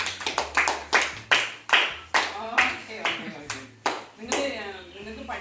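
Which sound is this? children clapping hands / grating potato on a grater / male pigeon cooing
children clapping hands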